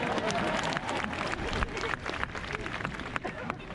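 Audience at a comedy show in Switzerland claps and cheers in a dense, continuous burst of applause, sharp hand claps crackling steadily throughout with crowd murmur beneath.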